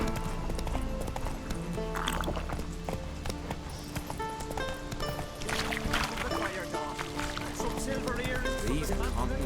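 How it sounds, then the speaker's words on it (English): Horse hooves clip-clop at a steady gallop in The Witcher 3, a continuous rhythmic beat under game music, with a brief neigh and voices talking over it. "Run, Roach"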